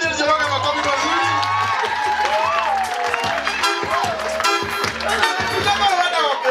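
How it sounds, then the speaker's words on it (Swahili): A lively crowd at a home gathering claps and cheers for a man named Daniel Joroge, with whoops and shouted voices rising over a rhythmic thumping beat and talk throughout. "Tupigie Daniel Joroge makofi mazuri"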